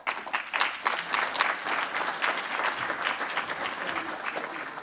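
Audience applause at a green technology conference stage in Austria, a steady wash of many hands clapping for several seconds after a presentation, moderately loud and unbroken.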